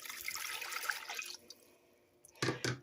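Hot water is poured into brown gravy mix in an old crock pot, giving a rushing splash for over a second, then quiet drips and a couple of louder clunks at the end.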